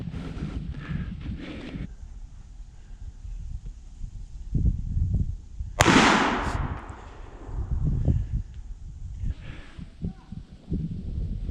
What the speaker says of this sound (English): Shot went down through the valley.